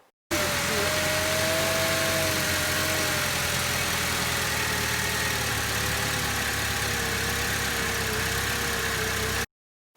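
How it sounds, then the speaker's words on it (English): A 2005 Mercedes W203 C-Class C180 compressor idles roughly with a jumped timing chain, a close, continuous engine drone whose pitch wavers and drifts as the revs hunt up and down. "You can hear it almost dying in that video, and the RPMs were jumping around."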